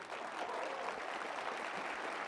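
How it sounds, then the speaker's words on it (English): Audience applause at a CPAC 2016 political conference, a steady, even wash of clapping from a large crowd, fairly faint and continuous throughout. "I applaud that too, we all do."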